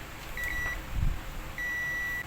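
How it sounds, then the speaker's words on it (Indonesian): Two steady, high electronic beeps from a multimeter on continuity mode, each lasting under a second, sound against a faint hum with a low thump between them. "Nyalakan avometer lalu arahkan ke bunyi beep."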